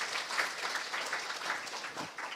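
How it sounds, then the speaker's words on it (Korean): A crowd at a citizens' public forum on the May 18 Gwangju uprising claps together, a soft, continuous patter of many hands heard from a distance for a couple of seconds. "모두 함께 박수 한번 칠까요?"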